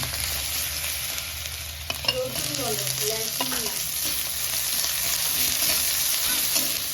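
Garlic with ginger fries in hot oil in a kadai while being stirred, producing a steady close sizzle with intermittent scraping strokes of a utensil against the pan.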